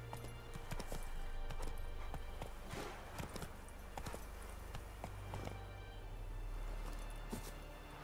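Horse hooves in the video game Witcher 3 beat a steady clip-clop walking rhythm over a low ambient drone. The hoofbeats stay fairly quiet and continuous for the whole stretch.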